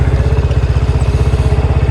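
A new motorcycle engine idles steadily up close, a low, even chugging putter that holds its rhythm throughout.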